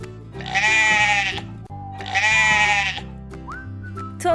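A voice imitates a sheep's bleat, giving two loud, close, wavering baa calls in a row, followed by a short rising squeak, over a steady background melody.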